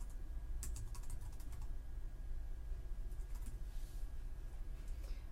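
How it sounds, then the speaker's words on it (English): Computer keyboard typing while filling in a blog address: a few quick clusters of light key clicks over a low steady hum, close and soft, no speech. "right down here is where you type the address"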